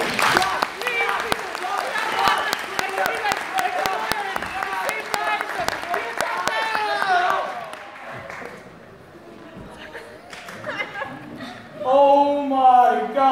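An audience claps for a live comedy stage show of Hansel and Gretel: dense, sustained applause for several seconds that fades out, followed by a voice talking and laughing.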